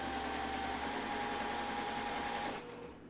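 A sewing machine stitches quilt pieces together for a block-of-the-month quilt top, a continuous even motor whir that runs alone and then slows and drops off near the end.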